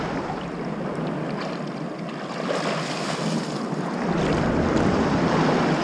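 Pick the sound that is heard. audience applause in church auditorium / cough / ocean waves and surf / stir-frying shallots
ocean waves and surf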